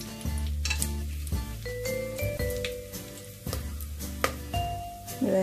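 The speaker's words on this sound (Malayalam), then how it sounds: "അതെല്ലാം കൂടെ നമ്മൾ ഇതിനകത്തേക്ക് ഇട്ടൊന്ന് പൊട്ടിക്കുകയാണ്" Whole cinnamon, bay leaf and cardamom go into hot oil for chicken mandi biriyani, making a soft sizzle with sharp pops and a few metallic clinks of a utensil against the pot.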